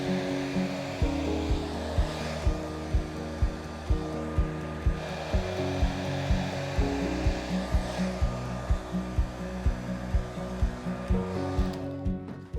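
Blow dryer pushing wet acrylic pour paint across a canvas, a steady loud whirring roar with regular pulsing puffs about twice a second, running continuously close by with no voices.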